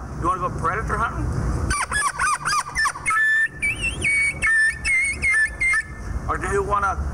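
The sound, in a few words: predator call imitated with a turkey mouth call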